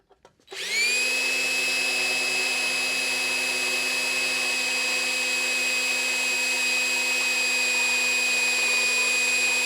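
A power drill bores into the sheet metal of an Art Deco lamp, starting up abruptly after a few light taps and holding a loud, steady, high-pitched whine for the rest of the stretch.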